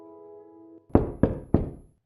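Three heavy knocks on a door come in an even rhythm after a low steady hum cuts out, each one a loud, close, hollow thump.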